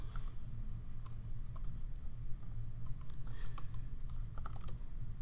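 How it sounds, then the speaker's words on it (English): Quiet, close typing on a computer keyboard, with light irregular key clicks scattered over a low background hum and no voices. "So in this case, I'm going to type that it is"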